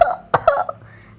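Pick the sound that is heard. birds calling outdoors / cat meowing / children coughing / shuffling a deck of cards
children coughing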